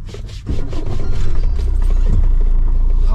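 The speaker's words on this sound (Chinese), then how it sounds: "先发动汽车" A motorhome engine cranks and catches, then settles into a loud, steady low idle rumble close by, with no voices.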